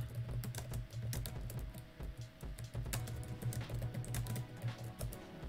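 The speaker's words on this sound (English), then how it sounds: "So I type it in there for y'all." Fast, continuous typing on a computer keyboard, close and clear with dense clicking keystrokes and a faint steady hum underneath, no voices.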